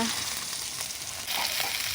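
Rohu fish frying in hot oil gives a steady, dense sizzle and crackle throughout, close and fairly loud, with no voices.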